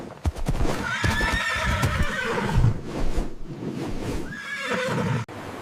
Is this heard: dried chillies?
no